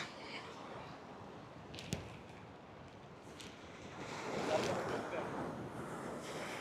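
A strong monsoon water current rushes in a steady broadband roar, with wind buffeting the microphone and a brief knock near the start; the flow swells louder toward the end.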